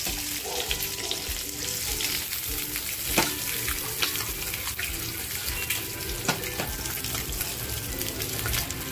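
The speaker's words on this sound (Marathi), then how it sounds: "बघा आपली अंडी छान फ्राय झाली आहे" Eggs for anda masala fry in a pan, a dense, unbroken sizzling hiss with occasional faint clicks and scrapes from stirring, close and steady throughout.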